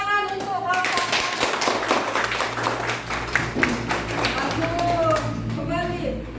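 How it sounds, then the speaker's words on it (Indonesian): Schoolchildren in a classroom clap for a group that has just presented, a close burst of irregular hand claps with a teacher's voice heard at the start and end. "Tepuk tangan untuk kelompok."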